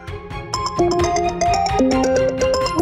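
A phone rings in a home with a loud musical ringtone, a busy tune of stepping notes over a steady beat that fills the clip with no voices.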